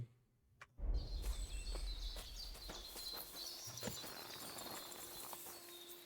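A horse's hooves clip-clop in a video game, steady walking hoofbeats close by, with faint birdsong in the background.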